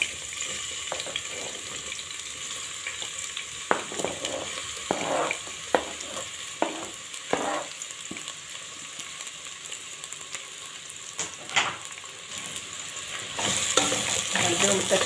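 Onions and peppers frying in a little oil, a close continuous sizzle with repeated spatula scrapes and clicks scattered throughout.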